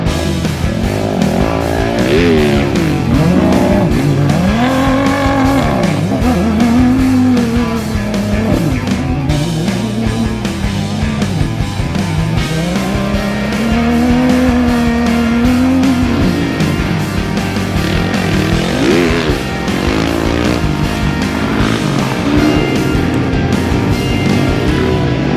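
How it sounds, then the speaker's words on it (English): Dakar rally cars race across Saudi Arabian sand dunes, engines revving loudly and continuously with rising and falling pitch as they accelerate and jump, close by and dense throughout. "a perfect spot where we can see the cars just jumping off the dunes"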